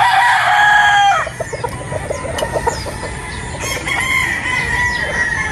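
A picom possum sweater gamefowl rooster crows loudly up close, a strained high call lasting about a second, followed by softer clucks and rustling in a farmyard setting.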